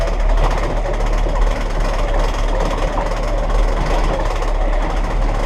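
A boat motor runs steadily on a trolling boat fishing for salmon off Møn, a loud, continuous rumbling drone that fills the whole stretch without pause or change.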